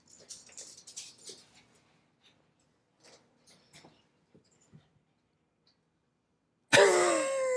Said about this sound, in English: My wife just walked in with the dog.